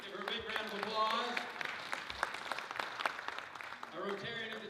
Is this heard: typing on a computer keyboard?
no